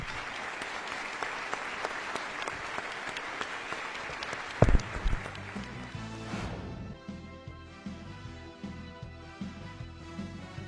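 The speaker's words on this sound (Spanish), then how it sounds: "reciban el aplauso de los hermanos de la Iglesia Bautista Betania para toda Latinoamérica" A Baptist church congregation claps in broad, steady applause, with a sharp knock partway through before music-like tones enter beneath the fading clapping.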